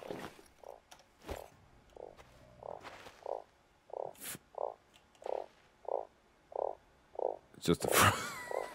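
Frogs croak at night around a sandy camp area, giving about a dozen short, evenly spaced calls at a steady moderate volume. Faint background noise runs throughout, and a voice and rustling come in briefly at the end.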